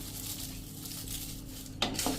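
Five spoonfuls of kasuri methi dropped into a hot griddle with the gas off, heard as a brief rattle and scrape of spoon on metal near the end, close and moderately loud.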